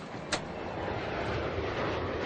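An EasyJet passenger airliner, packed full, taking off: a steady broadband engine roar that holds at a constant level throughout, with a brief sharp click near the start.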